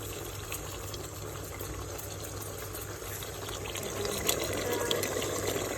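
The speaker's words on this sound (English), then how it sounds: "maybe a little bit of water, and just let it simmer" Coconut curry crab simmering in a pot of coconut milk and a little water, a steady close bubbling and hiss that swells slightly louder toward the end, with no talking.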